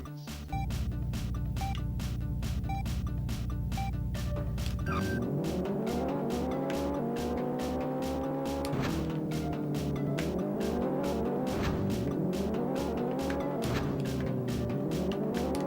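Race car engines in the Checkered Flag video game drone loudly and continuously, their pitch climbing through repeated gear shifts and revs, with a short tire squeal mixed into the steady electronic engine tone.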